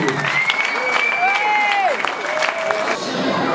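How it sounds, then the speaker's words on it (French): An audience at a tenth-anniversary celebration applauds in a dense, sustained clatter of clapping, with voices and a few cheers rising over it. "Ils t'applaudissent et c'est complètement mérité."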